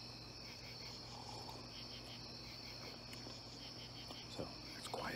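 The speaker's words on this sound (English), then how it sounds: "So, it's quieted down in the neighborhood. All I hear is crickets." Crickets chirp in a quiet neighborhood at night, a steady, faint high trill that continues evenly throughout with only a few soft background stirrings.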